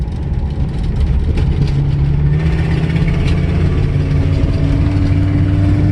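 A manual-transmission car pulls away loudly and close, its engine droning and climbing in pitch before easing as the gear changes, then pulling steadily again.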